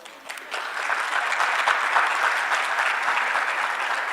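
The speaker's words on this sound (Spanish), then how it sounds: "Óigame, don Pedro Calderón de la Barca, les agradezco mucho ese aplauso que le acaban de tributar." Audience applause after a recited poem at a mystery-themed talk, steady moderate clapping from a seated crowd that swells in after a brief start and holds evenly throughout.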